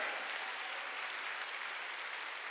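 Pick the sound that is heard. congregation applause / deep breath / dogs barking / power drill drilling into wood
congregation applause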